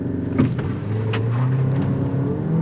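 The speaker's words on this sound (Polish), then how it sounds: "sprawdźmy teraz, jak ten samochód przyspiesza ze startu zatrzymanego" An Alfa Romeo Tonale PHEV Veloce 280 hp 4x4 hybrid engine hums and rises in pitch as it accelerates from a standstill, a steady close-up drone with a few faint clicks.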